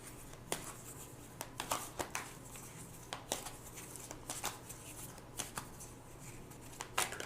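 Tarot cards are shuffled and drawn by hand, soft riffling flutters and quick papery slaps repeating at an irregular pace, close and fairly quiet over a faint room hum, with no speech.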